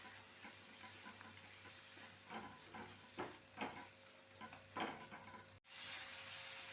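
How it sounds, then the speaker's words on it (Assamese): Spice paste for egg korma fries in a pan over low flame, a soft steady sizzle broken by several scraping strokes of a spoon stirring it, close and fairly quiet, ending in a brief cut and a brighter hiss. "ভালদৰে এনেধৰণে লৰাই দিব লাগিব মছলাটোৰ লগত।"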